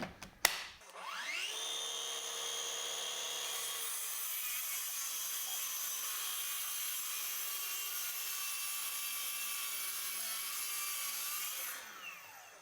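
A Ryobi cordless track saw spins up with a click and a rising whine, then cuts along a plastic strip in one long, steady, loud pass before winding down near the end.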